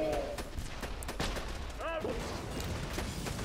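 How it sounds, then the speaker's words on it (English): Rocket launcher fire in the video game Borderlands 2, with several sharp blasts and booms scattered over a busy game soundscape, one with a whooshing sweep near the middle, while a voice speaks faintly. "This rocket launcher is pretty cool. I've got at least three shots every time"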